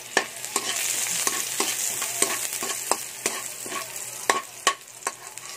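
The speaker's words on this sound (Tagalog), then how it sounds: "Isisain natin ang bawang" Garlic sautéing in a pan, a steady sizzle broken by repeated sharp scrapes and taps of a spatula stirring at an uneven rhythm.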